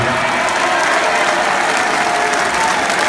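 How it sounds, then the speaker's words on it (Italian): Loud, dense crowd applause at an outdoor political rally in Siena, steady and close throughout the short clip. "Fate un applauso"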